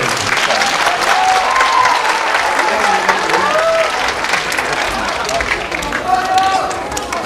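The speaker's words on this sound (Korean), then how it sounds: "박수 한번 주세요." A crowd applauding steadily and loudly throughout at the end of a youth debate competition final, with some cheering and murmured voices mixed into the clapping.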